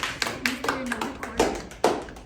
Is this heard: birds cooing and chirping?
no